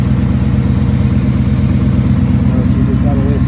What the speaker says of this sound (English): Engine is running pretty good.